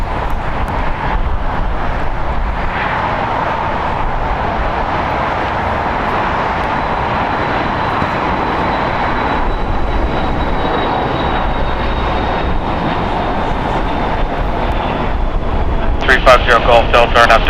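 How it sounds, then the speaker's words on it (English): A Northern Air Cargo Boeing 767-300ER freighter, 30 years old, at Los Angeles International Airport produces a steady broad jet roar with a thin high whine, loud and continuous throughout, while a voice talks over it. "a 2-hour and 7-minute flight on a Boeing 767-300ER freighter"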